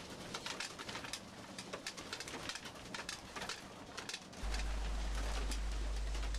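Racing pigeons coo softly inside a loft, a faint, continuous murmur of calls under steady background noise, with a low hum joining near the end.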